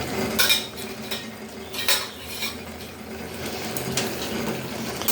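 A spoon stirs dates through tomato chutney in a pan, giving repeated scraping clinks and soft rattles in irregular strokes, close and moderately loud, with no talking.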